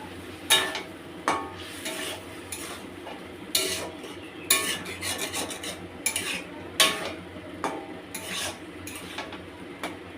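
A spoon stirs a curry in a metal pot just after hot water is poured in, giving irregular clinks and scrapes over a soft simmering bubble.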